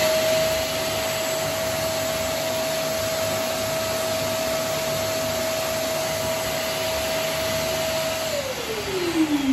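A Trend T33a wet and dry M class dust extractor runs at a loud, steady, close whine with a constant motor tone, which drops in pitch as it begins spinning down near the end.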